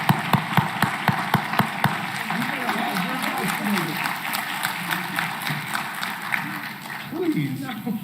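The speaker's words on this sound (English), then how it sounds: "Could everyone give a round of applause?" Audience at a township board of education meeting claps in a steady round of applause, starting with a few distinct near claps that swell into dense clapping from a modest crowd, with murmuring voices underneath.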